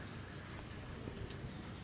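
Steady rain falls and patters on surfaces, a dense continuous hiss with no pauses or voices.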